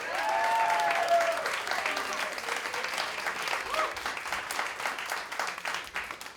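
A cabaret audience applauds a bassist as the trio is introduced. The clapping starts strong and then eases slightly, and a faint voice rises briefly over the dense applause.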